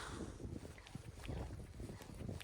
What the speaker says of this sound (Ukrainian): Слухай, ну вітер піднявся такий нормальний, да?